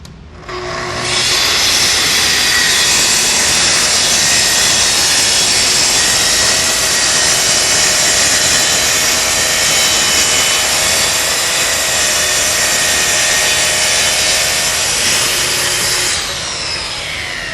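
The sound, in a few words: saw cutting countertop along a guide rail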